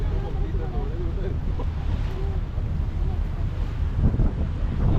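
A speed boat runs over the sea off Musandam, Oman, with strong wind buffeting the microphone, a steady low engine and water rumble, and faint voices and bird calls carrying over it.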